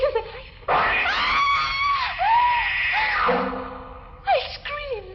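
A woman's long terrified scream in a 1950s-style horror radio drama, loud and close, rising and wavering over several seconds, then breaking into shorter panicked cries.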